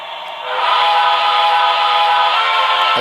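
An HO-scale model Pennsylvania Railroad Q2 4-4-6-4 steam locomotive's sound-system whistle sounds one long, sustained, breathy chord that swells in quickly and holds loud and close until the end.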